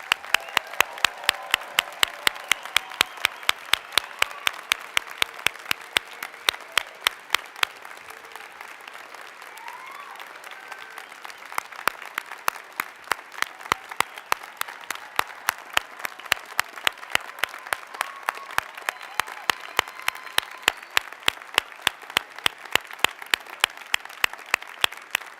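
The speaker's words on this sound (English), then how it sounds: "Let's give our graduates one more round of applause." An audience at a law school hooding ceremony applauds the graduates with sustained, dense clapping that swells and dips slightly over about twenty-five seconds, with no voices over it.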